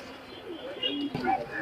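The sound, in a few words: pigeon cooing at a pigeon market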